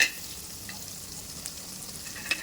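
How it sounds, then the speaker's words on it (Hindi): Sliced onion sautés lightly in a pan with garlic and green chilli: a soft, steady sizzle with a few faint stirring clicks, close by and fairly quiet. "और अनियन को भी ब्राउन नहीं करना है आपको, खाली हल्का सा सौटे करना है बस"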